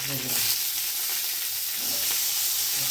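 Thin-cut potato strips sizzle steadily in hot oil in a pan, a close, continuous frying hiss with some stirring and a few faint background voices.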